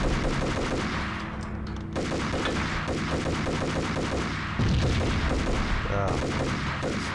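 Gunfire in the video game Max Payne rattles off in rapid automatic bursts broken by short pauses, loud and close, with one heavier booming shot near the end.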